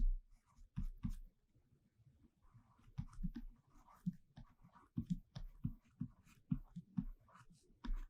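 Irregular strokes of writing are heard during a physics lecture, with quiet, scratchy taps and scrapes coming in short uneven bursts and no talk.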